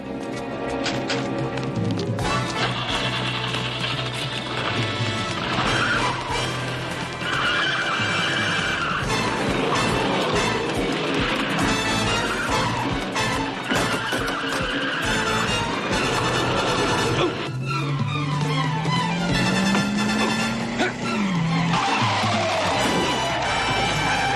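A stolen car pulls away with skidding, squealing tires amid loud, busy dramatic music and street noise, lasting throughout with a rising engine whine near the end.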